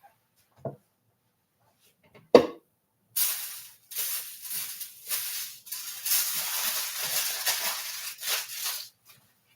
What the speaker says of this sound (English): Let's get some stuff sprayed down with alcohol.